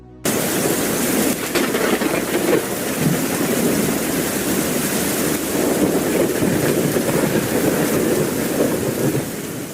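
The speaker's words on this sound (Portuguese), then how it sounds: "uma tempestade tropical soprou" A tropical storm with heavy rain pouring down and loud rumbling thunder, a dense, continuous roar that begins abruptly and holds at full strength throughout.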